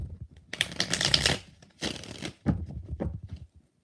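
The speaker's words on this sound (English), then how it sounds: "2 more shuffles." A deck of tarot cards is riffled and shuffled at close range in three quick bursts of crisp flapping and sliding, separated by short pauses.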